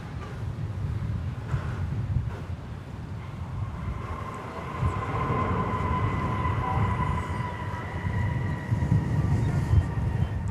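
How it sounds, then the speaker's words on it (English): American Airlines Boeing 787-9 Dreamliner arriving at DFW airport from Chicago O'Hare, a steady distant jet roar with a rising whine building gradually over about ten seconds, heard alone. "That's a 7879 Dreamliner, American Airlines, coming in from Chicago O'Hare Airport."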